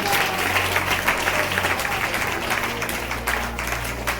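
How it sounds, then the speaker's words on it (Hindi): A church congregation at a special Thursday meeting breaks into sustained, dense clapping that stays loud and even throughout, with faint voices mixed in. "ताली बजाओ।"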